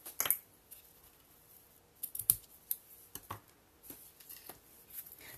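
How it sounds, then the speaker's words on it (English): Metal snips clip through paper for a handmade card, making a few crisp, close snipping cuts separated by quiet pauses and light handling rustles, with no speech. "get my snips and clip it off"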